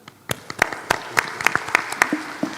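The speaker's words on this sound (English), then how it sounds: "we end this keynote session with a big applause" A conference audience at the end of a keynote session claps in scattered, uneven bursts of individual hand claps that are moderately loud and fairly close, rather than dense, sustained applause.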